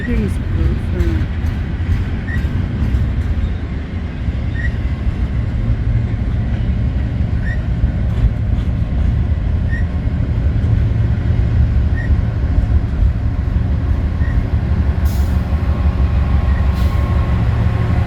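Freight train rolling past up close with steady rumble and wheel clatter as the two end-of-train distributed power units go by, continuous and loud, with a faint rhythmic tick and a person talking over it.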